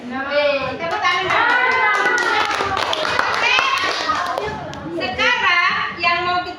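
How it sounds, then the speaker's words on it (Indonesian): Children clap their hands in a classroom, quick scattered claps mixed with excited kid voices and chatter, loud and close throughout. "Tepuk tangan"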